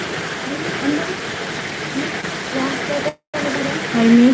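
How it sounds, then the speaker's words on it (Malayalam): Heavy, unceasing rain pours in a continuous dense hiss with no letup, while voices talk over it. "മഴയേ ഉള്ളൂ മഴ തോരണന്നെ ഇല്ല"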